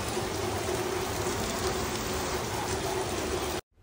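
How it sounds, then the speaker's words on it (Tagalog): Heavy rain pouring in Laguna, a dense steady hiss of drops hitting surfaces close by, continuous until a sudden cutoff at the end. "ang lakas ng ulan dito."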